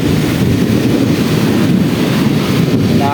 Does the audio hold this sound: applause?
no